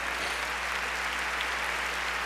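A congregation at a Baptist church service claps steadily, filling the room with broad, continuous applause while a low hum runs underneath.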